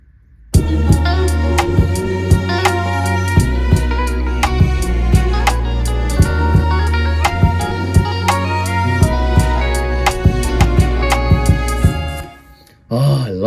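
Second half of a song verse with orchestral strings: dense sustained strings over steady deep bass and a regular beat, full and loud throughout, then a brief drop at the end.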